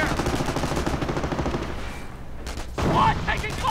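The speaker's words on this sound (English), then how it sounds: "Base is under enemy fire." Battle gunfire in Company of Heroes, sustained machine-gun bursts and rifle shots rattling loudly throughout, with a speaking voice over the combat.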